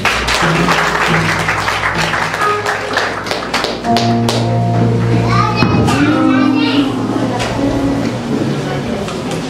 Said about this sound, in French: Applaudis mon Dieu